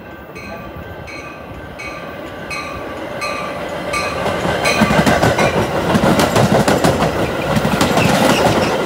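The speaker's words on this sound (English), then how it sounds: "Next inbound train approaching your station will not stop." Metra commuter train passing LaGrange Road station, a loud rumble that builds over several seconds with rhythmic clickety-clack of wheels on rail joints and faint squeal, no voices.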